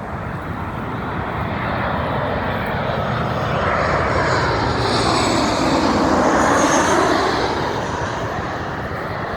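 A Delta airliner comes in to land, its jet engines making a loud, steady roar and rushing whoosh that swells slightly as it passes, with no voices.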